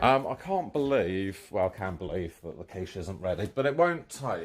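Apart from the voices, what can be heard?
None of the usual background noises is heard.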